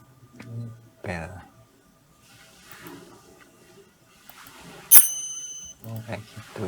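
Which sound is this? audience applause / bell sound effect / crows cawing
bell sound effect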